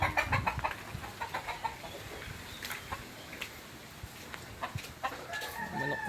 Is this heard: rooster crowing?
yes